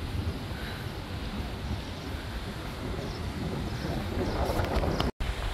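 Wind blowing hard outdoors beside a pool in Dubai, a loud, steady rushing buffet across the microphone that continues unbroken and builds slightly near the end before a brief dropout.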